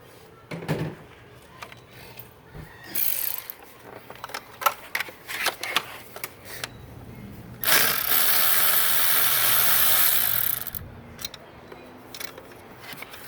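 Wrench work on a hidden 10mm nut in the engine bay of a BMW 335d during intake manifold and EGR cooler removal: scattered close metallic clicks and ratcheting taps, with a loud, steady hissing stretch partway through, with no speech.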